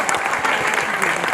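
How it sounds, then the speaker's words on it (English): Crowd applause for Senator Chuck Schumer at a Unity & Love rally speech, a loud, dense burst of many hands clapping with faint crowd murmur mixed in. "hopefully, you can clap for Chuck,"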